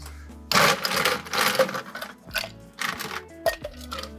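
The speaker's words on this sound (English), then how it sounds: "Add ice and stir until diluted." Ice cubes tumbling into a cocktail mixing glass during coffee cocktail preparation, a run of close, bright clattering knocks and clinks in bursts, with no talking.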